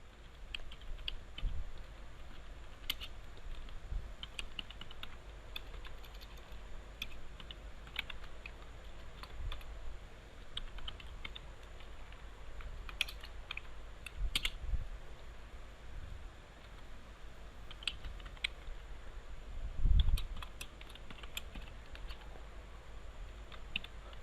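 Quiet, rapid keystrokes on a computer keyboard while PHP code is typed, an uneven stream of light clicks with occasional louder taps, fairly close in a calm room.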